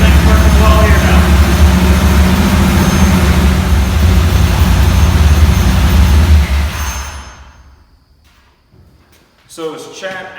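1970 Chevelle with a Saginaw 4-speed running in first gear with the tires rotating, a loud steady low engine rumble that fades out, followed by quiet and a short burst of speech.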